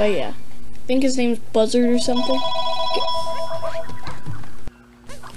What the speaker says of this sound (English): that was my phone, the house phone